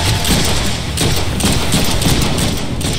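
Gunfire in the Deadpool video game, a loud, dense run of overlapping shots and thuds that keeps going for the whole stretch with no pause.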